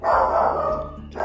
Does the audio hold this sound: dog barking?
yes